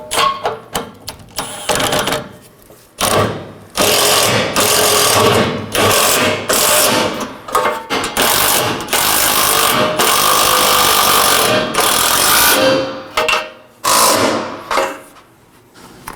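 Bumper reinforcement nuts on a 2014-2019 Nissan Sentra are tightened with a power tool in loud, repeated bursts of whirring and rattling, separated by short pauses, close up.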